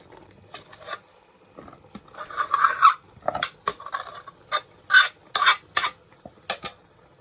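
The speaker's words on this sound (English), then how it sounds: "We're gonna put the rice in there. So this is parboiled, so it's not well cooked. Just put it in." Parboiled rice tipped into a pan of chicken biryani sauce, giving soft scattered patters and rustling splats in uneven bursts, with a few louder stirring scrapes against the pot, close by and with no talk.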